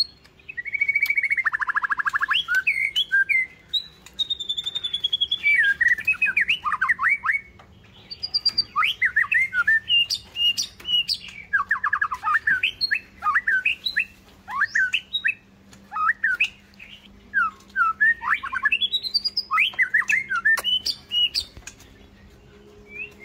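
Caged white-rumped shama and red-whiskered bulbul songbirds sing loud, close, varied whistles and chirps in rapid phrases, with short pauses between runs.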